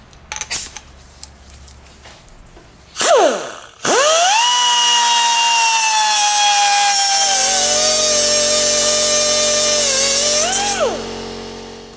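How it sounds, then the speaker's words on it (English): An abrasive cutoff wheel spins up and bites into an aluminum oil pan, a loud steady high-pitched grinding whine held for about seven seconds before winding down, with a brief rev at the start. "I use a cutoff wheel. If you don't have a cutoff wheel, a hacksaw will do just fine. But this is a lot faster."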